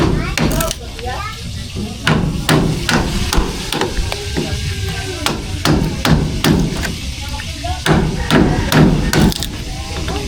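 Hammer blows driving nails into wood while a bedroom wall is being fitted, sharp irregular knocks in close bursts with people talking between them.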